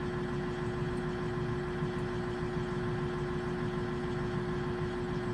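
Car engine idling with a low-power fault, a steady even drone with a constant hum, running unchanged and fairly quiet with no voices.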